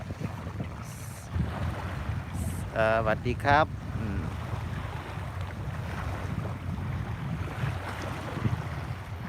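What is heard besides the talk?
sea shore with waves and wind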